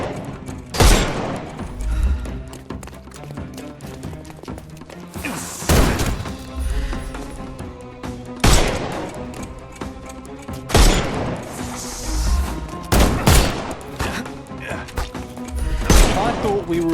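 Bursts of gunfire in a Sherlock Holmes video game, several loud volleys of shots at irregular intervals with game voices talking between them.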